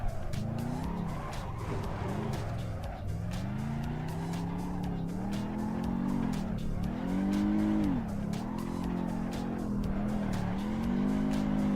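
A car drifting in the Assetto Corsa Evo racing game, engine revving up and down in repeated swells with continuous tire squeal and skidding through several slides, steady and close.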